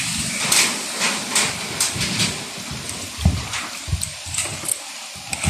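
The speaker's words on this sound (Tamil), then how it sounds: "இன்னும் கொஞ்சம் தண்ணி விடுவான்." Water is poured into semolina dough in a home kitchen, a light splashing trickle with soft wet mixing noises and a few louder thuds, fairly close, with no talking.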